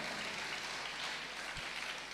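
Applause from an audience at a two-day engineering college conference, giving students a brief, faint, steady patter of clapping in a large room.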